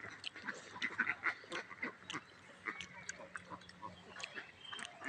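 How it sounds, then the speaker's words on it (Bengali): A flock of ducks on a farm, around 280 birds, quacks and chatters in scattered overlapping calls at moderate distance over faint background noise. "এখানে 280 পিস হাঁস রয়েছে।"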